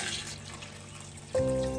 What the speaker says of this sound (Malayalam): ഒരു 1/2 കപ്പ് വെള്ളം അതും കൂടി ഒന്ന് ചേർത്ത് കൊടുക്കാം